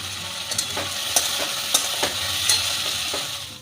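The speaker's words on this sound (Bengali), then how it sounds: "অল্প একটু লবণ ছিটিয়ে টমেটোটাও আমি কিছুটা ভেজে নেব।" A whole tomato sprinkled with a little salt frying in a pan, giving a steady soft sizzle with a few light stirring taps and clicks close by.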